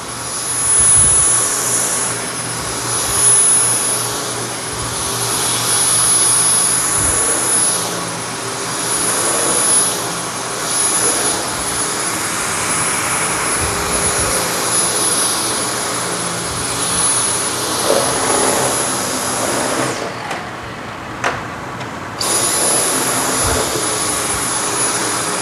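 A Dyson V10 cordless vacuum cleaner runs continuously on heavily soiled carpet with a loud, steady high-pitched whine and airy roar, briefly dipping near the end, and no voices.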